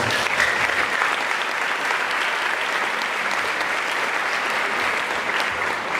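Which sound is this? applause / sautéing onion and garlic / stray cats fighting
applause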